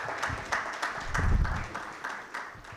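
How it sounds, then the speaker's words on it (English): Applause from a conference audience in Kampala, a steady patter of many hands clapping at moderate volume with no talk over it. "Keep the applause going until he gets to his seat."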